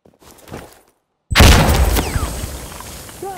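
Grenade explosion in Insurgency: Sandstorm: after faint quiet sounds, one sudden loud boom hits and rumbles away over a couple of seconds with scattered debris-like crackles.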